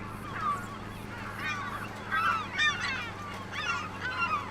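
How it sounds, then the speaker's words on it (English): Seagulls call repeatedly in Farming Simulator 25 on a Western Australia map, their honking cries rising in clustered bursts over a steady low background hum. "I didn't realize how noisy they were"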